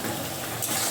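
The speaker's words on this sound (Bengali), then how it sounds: "এই মশলাটা ভালো করে কষিয়ে নেব।" Garlic and ginger paste frying in a pan with a splash of water, a dense close sizzle and hiss with light stirring, brief and steady, no talk.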